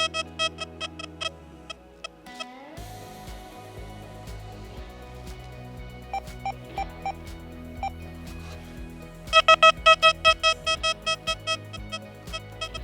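Deus II metal detector giving an air test at high then lower sensitivity: a run of short, evenly spaced electronic beeps, then a low droning tone with scattered pips and a louder burst of rapid beeps near the end.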